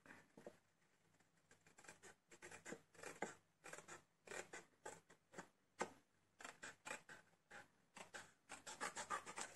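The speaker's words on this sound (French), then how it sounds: "Et là, on va le faire au ciseau." Repeated crisp snips of small scissors cutting through card paper, in quick bursts with short pauses between them, close up and with no talking.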